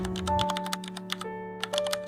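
Quick, steady clatter of typewriter keys struck in close succession on an old mechanical machine at night, sharp clicks up close with short pauses and no voices.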